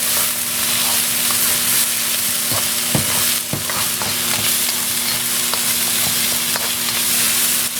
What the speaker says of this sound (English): I think it's just as you cook, you can kind of use the stir fry method.